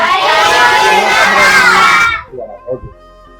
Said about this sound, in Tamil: எல்லாரும் சத்தம் போட்டு தேங்க்யூ திருங்க சொல்லுங்க சத்தம் போடுங்க